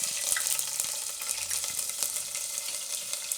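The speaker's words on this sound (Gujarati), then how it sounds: "તો તેલ આપણું ગરમ થઈ ગયું. એમાં આપણે પહેલાં જીરું નાખીશું અને મરચાં લીલા" Cumin seeds and green chillies drop into hot oil and sizzle with a steady crackling hiss, close and moderately quiet, with a few light clinks of a utensil.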